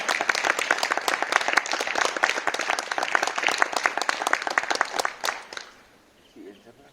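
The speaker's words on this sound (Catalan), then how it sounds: "Demano un aplaudiment." Audience applause at a book presentation about the medieval Vendrell, dense lively clapping for about five seconds that dies away abruptly, followed by quiet room sound and soft voices.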